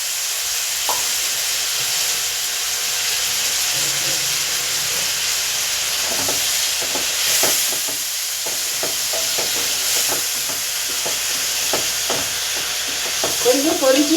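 Masala frying in a pan, a continuous soft sizzle and hiss with scattered crackles and stirring scrapes, steady at moderate level and picking up a brief flurry of spatter near the end.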